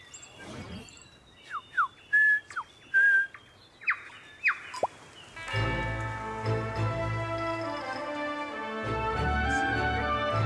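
Several short bird whistles and chirps sound close by in a quiet setting, then give way to a busy chorus of overlapping birdsong with a low rumble beneath.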